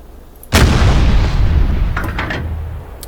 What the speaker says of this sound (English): I believe we're getting shot at.